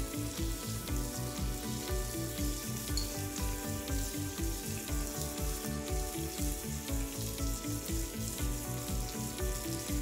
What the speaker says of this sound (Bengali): ইলিশ মাছ ভাজতে তো বেশি একটা সময় লাগে না, এক পাশ 3-4 মিনিট করে ভাজলেই হয়ে যাবে।